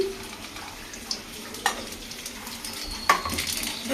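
Steady sizzling of dried red chillies and nigella seeds frying in hot oil in a kadai, close by, with two sharp clanks of a spoon stirring against the pan.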